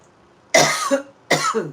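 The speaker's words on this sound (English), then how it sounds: "Okay, all of a sudden I'm coughing," Two sharp coughs, close and fairly loud, separated by a brief pause.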